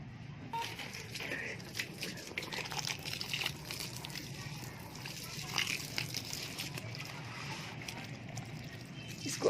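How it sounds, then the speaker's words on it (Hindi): Water poured and sloshing over a cocopeat block being soaked for garden use, soft trickling and splashing that runs on fairly quietly, with a voice talking faintly at times. "तो चलिए इसमें थोड़ा सा पानी और डालती हूँ मैं।"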